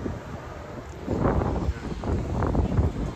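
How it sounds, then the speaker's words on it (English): Low, rumbling wind buffeting a microphone outdoors, gusting stronger in the second half with no one speaking. "It's windy too out here, man."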